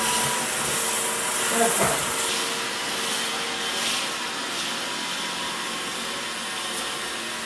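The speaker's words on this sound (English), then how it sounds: "Tried to sweep up my transfer. Bad Roomba." A Roomba robot vacuum cleaner runs nearby with a steady broadband whooshing hiss and motor drone, and a person briefly speaks over it.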